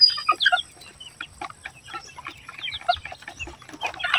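Native chickens cluck in quick, choppy bursts, several birds calling over one another at close range throughout, with no talk.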